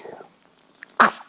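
A single sharp sneeze bursts out near the end, close and loud, after a few faint sniffs and small sounds.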